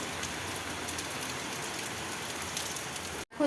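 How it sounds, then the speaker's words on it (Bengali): Heavy rain pours down in a dense, steady hiss with no voices, continuous until a brief break at the end. "এখন কিন্তু প্রচুর বৃষ্টি হচ্ছে"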